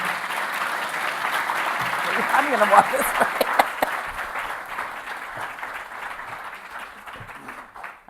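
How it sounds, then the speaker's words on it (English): Audience applause for three panelists being welcomed onto a stage at a public talk on parks, loud and steady across the whole stretch, with someone speaking over it as the clapping fades slightly. "Let's give them a round of applause"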